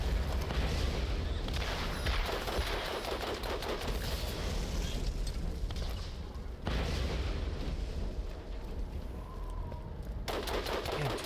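Rocket launcher explosions in the video game Borderlands, dense and continuous booming blasts and rumble that stay loud throughout with brief breaks in the barrage.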